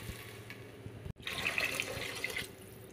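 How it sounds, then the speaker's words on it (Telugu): Water runs into a cooking pot over cooked vegetables for rice, a close, soft splashing stream that cuts out briefly and then resumes with a brighter gush before tapering off. "వాటర్ వేసుకున్నాం."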